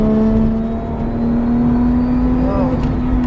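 A tuned car engine, tied to a 1200 WHP Supra and a 470WHP Subaru Spec C, holds a steady loud drone with a strong tonal hum and a brief rising rev near the end, close up.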